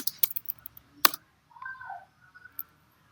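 Sharp, isolated clicks and key taps on a computer keyboard, a few separated strokes with one louder hit, near and close, with a short faint tonal sound in between.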